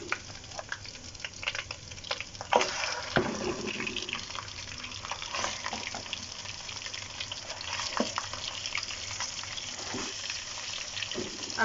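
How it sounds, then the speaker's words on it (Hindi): Chicken added to a pan of frying garlic for biryani, a steady crackling sizzle with scattered pops and stirring scrapes, close and continuous with no talking. "अब मैं इसमें चिकन डाल दूँगी।"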